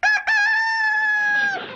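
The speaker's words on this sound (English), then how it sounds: "Earl's my rooster." Earl the rooster crows loudly and close, a single long cock-a-doodle-doo that begins with two short clipped notes and then holds a strong drawn-out call before trailing off.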